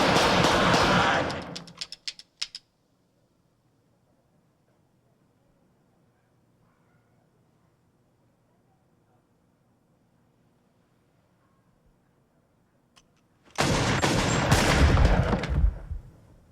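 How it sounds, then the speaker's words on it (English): Gunfire from a Pulp Fiction film scene: a loud burst of rapid shots opens, then a long near-silence, then another heavy volley breaks out. "You see the size of that gun he fired at us?"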